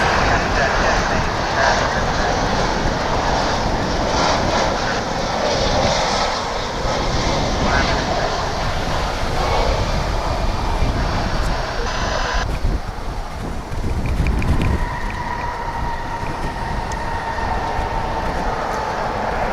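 A UPS Boeing 767 cargo jet arriving from Los Angeles at DFW Airport, heard as a steady, broad engine roar that holds throughout and shifts in tone partway through, with faint voices in the background.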